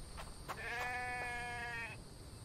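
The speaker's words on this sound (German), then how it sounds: "Oh, das hört sich aber gut an. Hier ist ein Schaf." A sheep bleats once in the video game The Infected, a long wavering nasal call lasting over a second, fairly close, with a few faint clicks before it.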